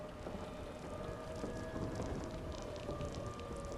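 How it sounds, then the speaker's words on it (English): Rain falls steadily in the video game The Lightkeeper, a dense, unbroken hiss of drops at constant loudness throughout, with no one speaking. "Oh, it's raining from..."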